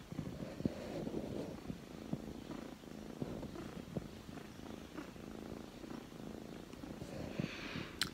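Steady, close purring from a house cat, a continuous soft rumble lasting the whole stretch with faint small rustles and no talking.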